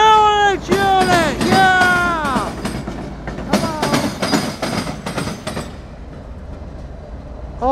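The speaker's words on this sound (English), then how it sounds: "that was CSX L358 with the Seaboard System Heritage Unit" CSX locomotive in Seaboard System heritage paint on a westbound light power move in Marion, Ohio, sounding a loud multi-note horn in repeated blasts near the start, with engine rumble passing and excited voices shouting over it.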